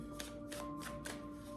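Tarot cards are shuffled close by in soft, papery riffles, about four quick bursts in a steady rhythm under a faint electronic hum, with no talking.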